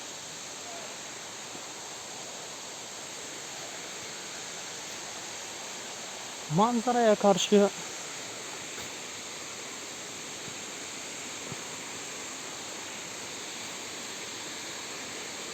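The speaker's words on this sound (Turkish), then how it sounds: "şelalenin hakikaten tam yanına geliyoruz" Güzeldere Waterfall in Düzce roars as a constant, broad rushing wash from close by, with a short burst of talk partway through.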